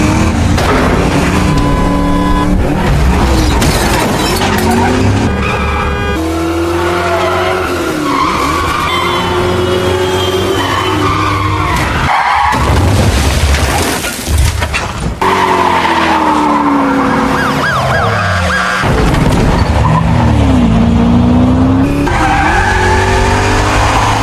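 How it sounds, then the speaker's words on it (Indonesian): A movie car chase fills the scene with loud, repeated tire squeals and skids over roaring engines, the screeches sliding up and down in pitch in long bursts, with crashes and impacts breaking in along the way. "Lalu Jack menabrakkannya dan terjadilah kejar-kejaran."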